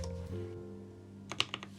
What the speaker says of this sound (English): I've only typed on it for 1 typing test